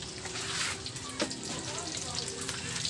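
Cooking oil heats in a pan, giving a steady soft sizzle and crackle in a home kitchen, faint and continuous with a brief clatter midway.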